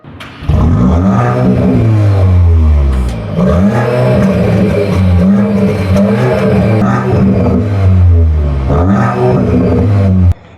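An Audi S3 facelift sedan engine revs hard and loud through its quad exhaust several times, rising and falling in pitch, with a deep, rumbling exhaust note between the surges.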